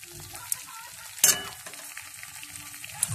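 Masala with a pinch of sugar stirred and fried in a pan, a faint steady sizzle under a few soft scrapes and one sharper clink near the middle, close but quiet.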